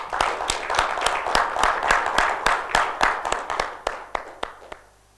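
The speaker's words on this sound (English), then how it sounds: "So let's give them a big clap." Audience applause at a leadership event, a fairly small crowd clapping in sharp, distinct claps that swell and then thin out to a few final claps before stopping.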